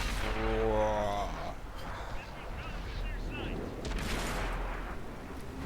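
A T-28 Concept tank gun fires in World of Tanks, booming near and loud with a rumbling tail, followed by duller distant thuds of battle while someone talks over it.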